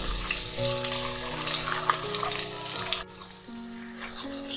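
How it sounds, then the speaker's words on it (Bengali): Pointed gourds being lightly fried and turned in a pan for a Bengali potoler dolma give a steady, close sizzle over a soft tonal background, dropping quieter partway through before continuing. "এবার আমি পটলগুলোকে উল্টে পাল্টে হালকা ভেজে নেব"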